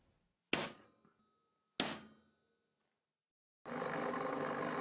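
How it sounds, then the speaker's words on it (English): Steel center punch struck by a hammer to mark hole centres in steel: two sharp, ringing metallic clangs with a short decay, set well apart, followed by a steady broadband noise. "used the center punch to mark the center of all the holes before drilling"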